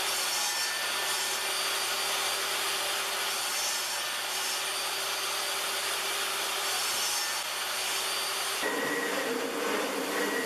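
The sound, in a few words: saw cutting wooden table legs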